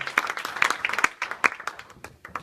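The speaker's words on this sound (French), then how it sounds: "Mesdames, Messieurs, on peut l'applaudir." Audience clapping at a kite and business meetup in Castelnau, a small crowd giving scattered, uneven applause with distinct individual claps, close and fairly sparse.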